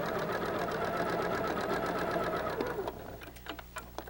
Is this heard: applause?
no